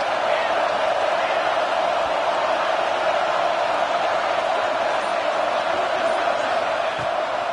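Stadium crowd cheering at a Florida college football game on a big third down, a loud, dense, unbroken roar of fans sustained evenly from start to finish.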